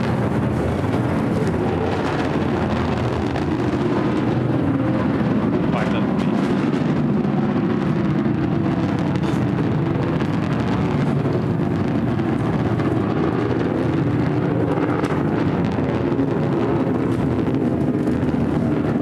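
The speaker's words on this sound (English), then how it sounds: "listen to the roar of the BE-3 engine" A deep, rumbling roar of a Blue Origin rocket's BE-3 engine at launch, continuous and powerful, with low-frequency thunder dominating and crackling texture on top.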